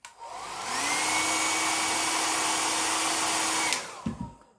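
A heat tool blows hot air onto a device skin, a steady loud whooshing roar that runs for several seconds, then cuts off, followed by a few soft handling knocks.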